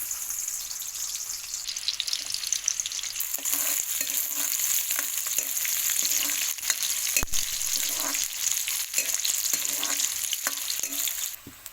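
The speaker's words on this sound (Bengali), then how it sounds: "এবার আমি ঝিঙেটা বসাবো।" Ridge gourd fries in a pan with a continuous close hiss, while spatula stirs and scrapes break through in irregular bursts; nobody speaks.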